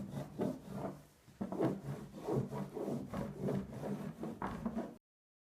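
A cork rubbed briskly up and down a cross-country ski to work in kick wax, giving close, rhythmic dry strokes of scraping friction, about a dozen in quick succession, with no talk.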